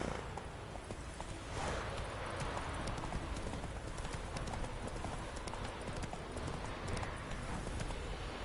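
Hooves of Roach, Geralt's horse in The Witcher 3, pound in a fast gallop, a dense even clatter of clip-clop beats close up and steady from start to finish.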